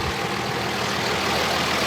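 A Cummins diesel truck engine idles close by at a dynamometer event, a steady low rumble holding even throughout with no revving and no voices.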